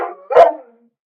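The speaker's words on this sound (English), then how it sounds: "The bark you hear now, if you can hear it, that is Midas." A single sharp bark from a dog named Midas, clear and fairly close, following a brief whine and then trailing off into quiet; no talking.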